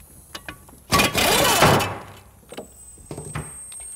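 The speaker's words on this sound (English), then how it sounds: "So I'm going to use air tools just to speed the job up" An air tool rattles hard in one loud, close burst of about a second while a brake caliper carrier is taken off a car, surrounded by lighter metallic clicks and knocks.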